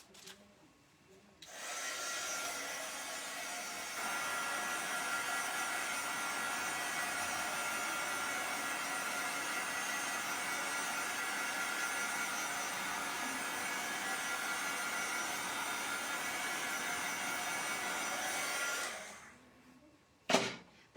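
Hand-held dryer blowing on freshly applied chalk paint during a geometric DIY craft project, a steady close whirring hum running continuously for about seventeen seconds before switching off with a click.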